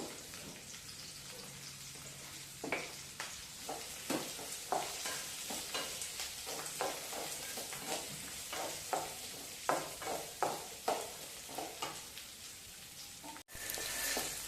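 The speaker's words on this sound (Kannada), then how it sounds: "ಈ ಥರ ಉಳ್ಳಾಗಡ್ಡಿ ನಾನು ಈಗ ಫ್ರೈ ಮಾಡ್ಕೋಬೇಕು" Onions sizzle softly in a pan while a spoon stirs them in a run of distinct scraping taps, close and fairly quiet, with a brief break near the end.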